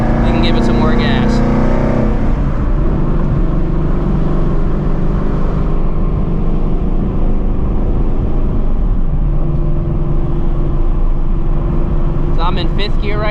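A manual transmission car accelerates from inside the cabin, its engine rising loudly in pitch, dropping at a gear change, then climbing again over steady road noise.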